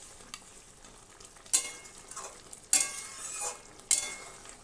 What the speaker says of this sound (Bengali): দিয়ে দিলাম কাঁকড়াগুলো, দিয়ে ভালো করে নেড়ে চেড়ে নিলাম।